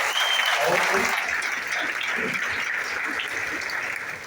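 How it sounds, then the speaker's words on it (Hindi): Audience applause at a stage business-sharing event, a dense, steady wash of many hands clapping at once, loud from the start and easing slightly toward the end, with faint voices mixed into the crowd. "मैडम के लिए एक बार जोरदार ताली होनी चाहिए।"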